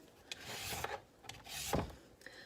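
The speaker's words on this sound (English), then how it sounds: "Start with slicing these sweet potatoes up I got from Jackson's Orchard." A knife slices through raw sweet potatoes from Jackson's Orchard on a cutting board, giving several short rasping cuts spread at an uneven rhythm, close and moderately loud, with no talking.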